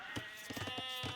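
A faint sheep bleat in Age of Empires, a couple of short soft calls within a second over quiet game ambience.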